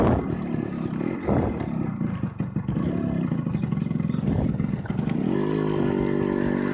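A 1991 Yamaha RX100 two-stroke motorcycle with a four-speed gearbox and no electric start is kicked over with clattering, then its engine catches and revs, rising into a loud steady idle close by without talk.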